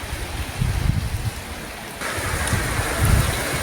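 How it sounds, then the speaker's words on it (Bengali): Heavy rain pours steadily outside a house, a dense, continuous hiss and wash of falling water with no voices heard. "দেখো কত বৃষ্টি"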